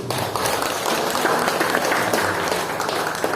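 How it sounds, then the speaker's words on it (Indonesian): Applause from a church congregation at a baptism gathering, a steady dense patter of many hands filling the room at moderate loudness, with faint voices mixed underneath. "Tepuk tangan dulu."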